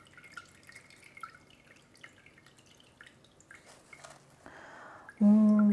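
Water from an overwatered variegated Alocasia Frydek pot during repotting trickles and drips faintly and close, small wet drops over a quiet background, ending in a sudden louder gurgling splash.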